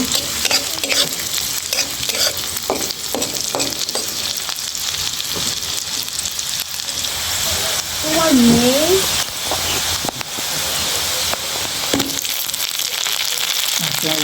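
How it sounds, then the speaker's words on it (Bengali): Chopped onions fry in oil left over from frying pangasius fish, giving a constant bright sizzle with stirring scrapes and some brief talk partway through. "এখন আগের তেলগুলোর মধ্যেই কিছু পেঁয়াজ কুচি দিয়ে দিয়েছি। পেঁয়াজগুলা লাল করব, হালকা লাল করব।"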